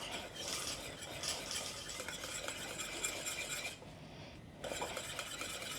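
A spoon stirs a white sauce in a pan with a soft, continuous scraping swish and faint sizzle, close and quiet, with a brief lull near the end.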